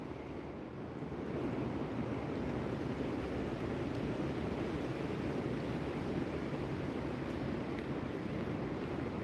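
Strong wind of about 30 mph blows across open water on a bass fishing outing, a constant loud rush of gusts and lapping waves that starts a second in and runs steady.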